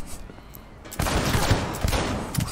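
Gang shootout in Cyberpunk 2077, a burst of rapid overlapping gunfire erupting after a moment of quieter ambience, dense and loud with clustered shots continuing to the end.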